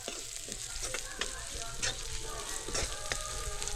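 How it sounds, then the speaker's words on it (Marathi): Onion frying in a pan over a wood-fired stove, with a continuous close sizzle and the occasional scrape and tap of a spoon as it is stirred, no talking. "आता कांदा मस्त परतून घेते"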